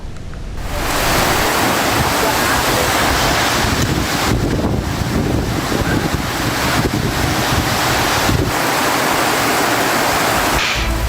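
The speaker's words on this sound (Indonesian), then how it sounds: "hujan deras disertai angin kencang menerjang wilayah Kabupaten Maros" Heavy rain roars steadily while strong wind buffets the microphone during a storm in Maros Regency, Indonesia, a loud, dense rushing noise with surging gusts throughout.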